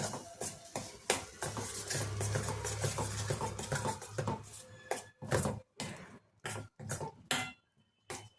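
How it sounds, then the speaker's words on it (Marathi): Ground coriander, garam masala and cumin powder being stirred into an egg curry masala with a spoon in a pan, giving irregular close scraping and tapping knocks that grow more separated and rhythmic toward the end. "याला सगळ्याला मिक्स करून घेऊयात आपण"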